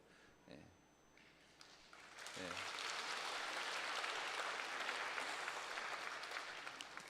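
A church congregation at a Sunday morning service bursts into applause, starting after a few brief sounds and swelling into sustained, fairly distant clapping across the room.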